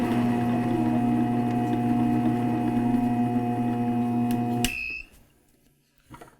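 An Efficient Kit Commercial 7 quart stand mixer kneads a heavy batch of dough, its motor giving a steady loud whine and hum for several seconds before cutting off, followed by quieter knocking.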